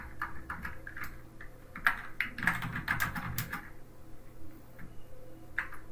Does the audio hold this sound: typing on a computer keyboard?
yes